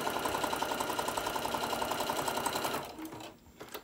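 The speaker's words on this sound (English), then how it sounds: "I'm gonna sew this one to this one, so you're sewing it at a diagonal again." A sewing machine stitches the corner of a fabric bowl koozie on a diagonal, running in a steady, fast, close-up rhythm for nearly three seconds before stopping, followed by faint handling noise.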